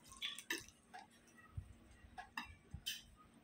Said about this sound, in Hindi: ये मसाले का पानी जो है ना, थोड़ा थोड़ा करके डाल